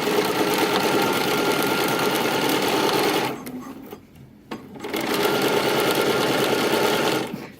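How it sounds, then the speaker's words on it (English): A sewing machine runs steadily and loudly while stitching a dress seam at three-eighths of an inch, pausing briefly near the middle before resuming its fast even whir, with no voices. "I am going to be stitching at 3/8 of an inch."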